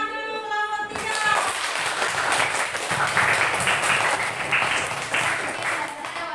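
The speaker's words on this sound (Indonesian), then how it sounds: "Tepuk tangan dulu kelompok 3." A classroom of students applauds group 3 after a math lesson, a sustained burst of clapping beginning abruptly after a second of voices, with faint talk mixed into the noise.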